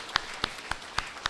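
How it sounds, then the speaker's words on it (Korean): Sparse, evenly spaced claps in a church congregation during a Sunday worship service, five distinct hand claps at a steady rhythm, faint and somewhat distant. "박수하겠습니다."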